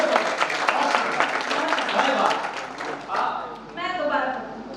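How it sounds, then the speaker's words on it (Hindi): Audience at a Hindi poetry recital (kavi sammelan) in Bareilly breaks into sustained, dense clapping that fills the clip, with the applause swelling and thinning in waves. "एक बार जोरदार तालियां बजाएं आप"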